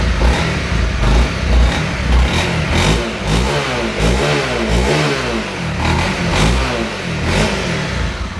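A 2015 Honda CRF250L motorcycle with stock exhaust runs loud and close, revving up and down several times in quick, rhythmic bursts over a rumbling idle.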